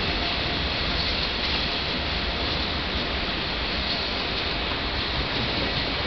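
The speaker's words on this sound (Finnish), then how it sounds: "Sieltä juna menee, juna tulee." A steady, broadband rumble of a passing train, continuous and even in loudness throughout, with no voices.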